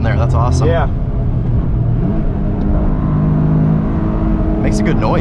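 A 2023 Toyota GR Corolla Morizo Edition on a hot lap around a track, its engine droning loud and close inside the cabin with rising and falling revs as it shifts, while people talk over it.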